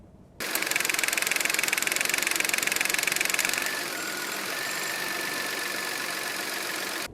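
A Dacia Duster LPG engine idles loudly up close with the hood open, a fast, even ticking rumble, starting abruptly and settling slightly quieter partway through.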